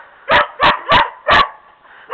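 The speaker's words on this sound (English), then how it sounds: "Stop barking." A dog barks outdoors in the snow, five loud, sharp barks at a steady pace, close by and alone.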